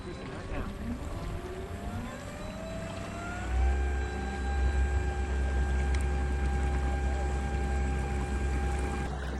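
Small electric-style motor on a fishing kayak hums steadily on Lake Berryessa during a bass tournament, with a rising whine that settles into a constant drone over water and wind noise.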